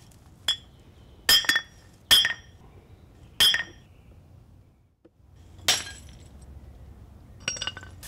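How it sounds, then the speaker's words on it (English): Thick art glass smashed inside a bag, several sharp crunching impacts with bright clinking shards, spaced apart with quiet gaps between blows. "I simply put this in a bag so that the shards don't go around. Put on protective glasses and smash."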